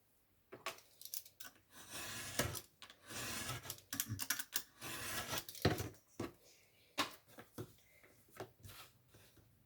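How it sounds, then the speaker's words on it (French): Stiff, rigid cardboard is being cut along a diagonal for a bag-shaped album structure, giving a quick series of close, crisp snips and scraping cuts in an irregular rhythm. "on vient couper la diagonale"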